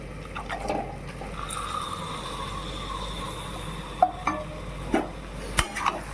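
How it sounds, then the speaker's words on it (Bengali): Mutton hits fried spice masala in a pan, sizzling steadily while a spoon stirs and scrapes, with several distinct clanks toward the end and no talk. "মশলাটা ভালোভাবে ফ্রাই হয়ে গেছে, এবার ওর মধ্যে মাটনটা দিয়ে দিচ্ছি।"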